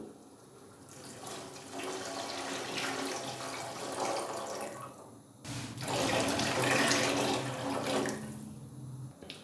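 About 2.5 kilograms of water pours steadily into a cooking pot of rice in a continuous splashing rush, briefly pausing midway before resuming, close by with no talking.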